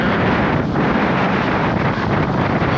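Strong wind at a coastal cliff near a blowhole on Maui roars steadily and loudly across the microphone, a constant buffeting rush with no pauses.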